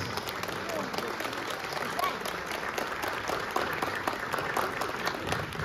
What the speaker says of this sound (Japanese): 今一度ブリックスの面々にも今一度盛大な拍手をよろしくお願いいたします。